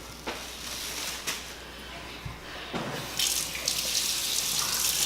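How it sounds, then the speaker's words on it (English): Lukewarm tap water runs steadily while a child's hair is rinsed, a close hissing flow with occasional splashes and sloshes that swell louder toward the end. "I'm gonna rinse his hair out using lukewarm water."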